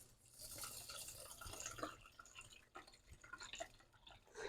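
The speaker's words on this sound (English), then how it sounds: "we're going to pour our coconut water in here" Coconut water is poured into a rice cooker holding jasmine rice, making a soft, uneven splashing and trickling that stays quiet and close.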